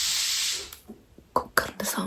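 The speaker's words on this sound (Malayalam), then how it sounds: "കുക്കറിൻ്റെ സൗണ്ട്" A pressure cooker releasing a short burst of loud steam hiss that fades out, followed by a person talking nearby.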